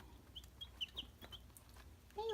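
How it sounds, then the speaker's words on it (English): Young heritage-breed chickens, among them Appenzeller and Brahma birds, cluck and peep in a baby-pool brooder. The calls are faint, short and scattered, with a louder rustle near the end. "Hey, little chicken nugget."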